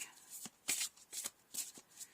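A deck of tarot cards is shuffled up close in five quick, soft bursts of riffling and slapping, separated by brief pauses, with no talking.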